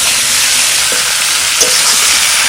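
Dried chili, bay leaf and cumin frying in hot oil give a loud, steady, close sizzle that crackles evenly throughout, with no voices.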